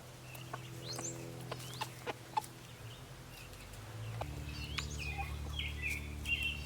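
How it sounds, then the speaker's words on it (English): Chickens cluck and call softly outdoors over a low steady hum, with scattered short clucks and a few higher bird calls. "They look like pretty happy chickens."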